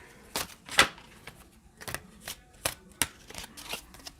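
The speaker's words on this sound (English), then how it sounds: "This is a big deck. And I like to shuffle it a lot because there's 78 cards in this deck." A large 78-card tarot deck is shuffled by hand in a steady series of crisp, close clicks and soft slaps, faint and irregular, with no talking.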